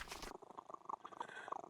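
A cat purrs in a Sherlock Holmes video game, a soft rhythmic rumble of repeated pulses that is quiet and close, after a brief burst of noise at the start.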